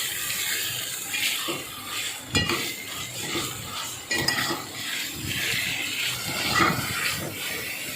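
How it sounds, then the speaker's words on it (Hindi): Beef sizzles with garlic ginger paste in a pan while making achar gosht, a steady fry hiss punctuated by spoon scrapes and clanks against the metal as it is stirred. "जब तक इसका कलर चेंज नहीं हो जाता हम इसको फ्राई करते रहेंगे।"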